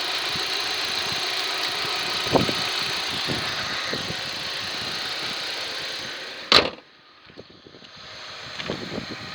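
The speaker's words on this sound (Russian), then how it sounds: "Так, моторчик робить бомба" An Audi car engine idles steadily with a low hum and occasional knocks, then a sharp clunk cuts in before the motor settles back.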